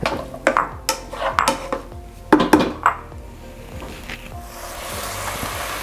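Minced garlic goes into a pan of softening onions and vegetables for keto Italian sausage and peppers: close metallic clinks and scrapes of a utensil against the pan in an uneven series, then a soft steady background sizzle with no talking.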